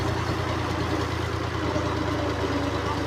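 A tractor engine idling and running steadily while the tractor turns with its trolley at a crop harvesting site, a continuous low rumble throughout, fairly close and loud, with no speech.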